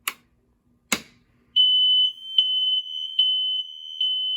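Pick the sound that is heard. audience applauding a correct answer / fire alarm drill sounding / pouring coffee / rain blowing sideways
fire alarm drill sounding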